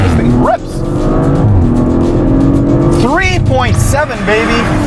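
A 2023 Audi RS5 Competition's 2.9-liter twin-turbo V6 accelerates hard in dynamic mode, loud and close, with rising revs broken by quick gear-change dips and climbing again.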